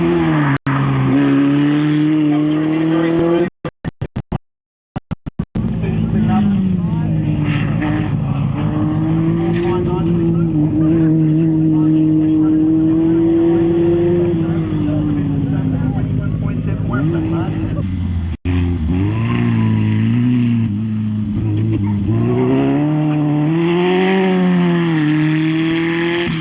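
A hillclimb race car at a South Australian hillclimb championship, engine loud and close as it revs hard, with sharp gear changes and a brief cut in the middle, pitch rising and falling under a commentator's voice.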